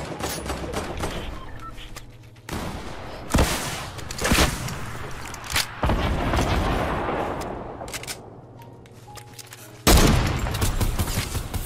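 Rapid gunfire and explosive booms in the video game Fortnite, dense volleys of shots with sharp louder cracks and blasts across the stretch, fairly loud and without speech.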